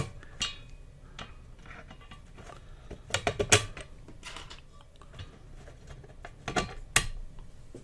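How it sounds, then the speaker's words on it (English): Small screws drop one after another into the metal frame of a 1931 AWA Radiola radio speaker around its cone, giving faint irregular clicks and tinkles with a few sharper metallic clatters, close and quiet. "I'll put all the little screws in. I'll just drop them down to keep the cone where it should be."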